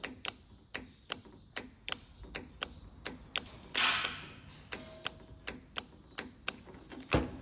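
The old Mazda oil pressure control solenoid clicks repeatedly on bench power, sharp close ticks in a fairly steady rhythm about twice a second, with a short hiss partway through.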